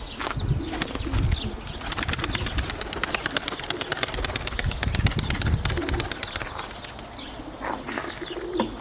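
Rapid, continuous wing flapping from a pigeon taking off nearby, loud and rhythmic, with occasional faint chirps behind it.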